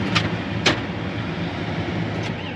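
A tractor pulls a disc through a crop field, its engine rumbling steadily at a distance. A few short clanks rise above the drone.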